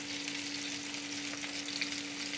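Buffalo chicken wings pan frying in shallow oil in a cast iron skillet, a continuous close hissing sizzle with faint pops over a steady background hum.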